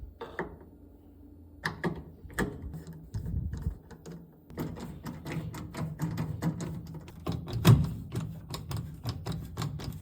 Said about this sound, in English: Then unscrew it with a Phillips screwdriver.